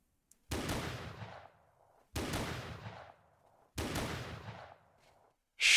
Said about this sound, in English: Without aiming, I raised the gun and fired where the memory guided me.